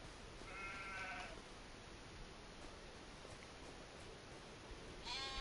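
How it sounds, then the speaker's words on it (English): Sheep in Farming Simulator 25 on PS5, on the Wola Zabierzowska map, give two quiet bleats, one near the start and another at the end, over a soft, steady ambient hiss. "I'm gonna go check out these sheep"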